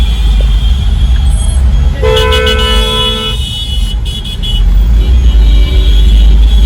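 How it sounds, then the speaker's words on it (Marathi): Road traffic jam with vehicle horns, a steady loud engine rumble under several overlapping honks and short repeated toots, close by and continuous. "तुम्ही ट्रॅफिक बघू शकताय."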